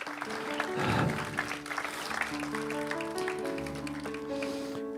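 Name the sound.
congregation applause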